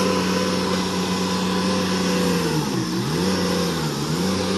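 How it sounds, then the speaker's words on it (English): A Ditch Witch mini bulldozer's engine runs steadily and loud throughout, a continuous mechanical drone with a slight dip and recovery in pitch partway through, no voices over it. "There it is, YouTube. There's the bulldozer."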